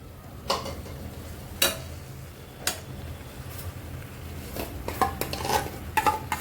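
Mashed vegetables for pav bhaji, including beetroot and carrot, stirred in a pan with a metal spoon, scattered clanks and scrapes at irregular intervals over a soft frying hiss.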